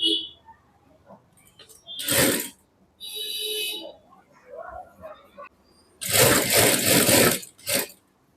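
A sewing machine stitches a shirt top in a tailoring workshop, with short bursts of fast whirring separated by pauses, the longest burst near the end, and a voice speaking briefly between them.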